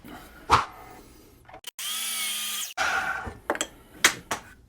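A power saw cuts a 30-degree bevel into a wood workpiece in one loud, steady cutting burst of about a second, framed by sharp knocks and clatter from handling the wood.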